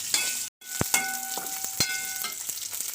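Shallots and garlic sautéing in a pan for a sprouted-legume kurma, giving a continuous close sizzle with a few sharp spoon taps and one very brief silent gap.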